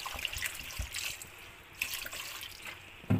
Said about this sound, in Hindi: तो अभी इसके साथ ही मैं डाल दूँगी पानी